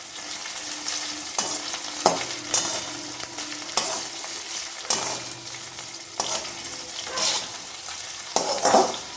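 Prawns frying in hot oil in a pan, a continuous close sizzle broken by regular scraping stirs of a utensil every second or so.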